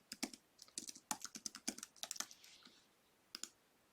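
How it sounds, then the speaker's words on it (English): Fingers tap out a prompt on a computer keyboard, a quick run of close, light clicking keystrokes that trails off into a pause before two final key presses, with no talking. "So I'm just going to type in a simple prompt"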